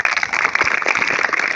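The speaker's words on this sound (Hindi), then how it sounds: "तालियां" Students at a school session on vegetarianism and the environment applaud in a brief, dense burst of close clapping.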